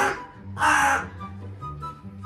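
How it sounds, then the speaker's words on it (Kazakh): A crow gives a single loud, harsh caw, fairly close, over a low steady background hum, with no talking. "Міне қарға."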